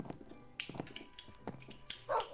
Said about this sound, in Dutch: Kom, hondje.